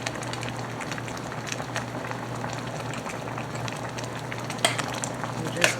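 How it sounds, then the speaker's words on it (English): Peach cobbler filling with added juice stirred in a pan on the stove, a steady low bubbling and soft scraping that runs throughout, with a couple of brighter clinks near the end. "Stir it up."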